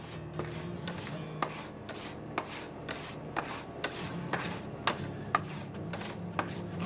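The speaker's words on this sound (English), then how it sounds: "now essentially we're just going to push the batter through to make our little dumplings" Spaetzle batter being pushed through a perforated pan, heard as a steady series of soft scraping strokes about twice a second, close and fairly quiet, with no talk.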